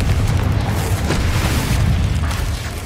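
Confringo fire spell explosion in Hogwarts Legacy, a loud, sustained booming blast with a rumbling low-end roar that fills the whole moment without letup.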